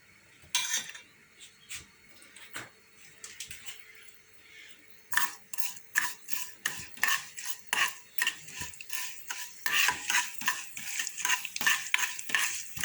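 Urad dal, fenugreek and mustard seeds fry in oil in a pan, with okra added, while a metal spoon stirs and scrapes the pan. Close, rhythmic clinks and scrapes repeat in quick bursts over a soft frying hiss, with no talk.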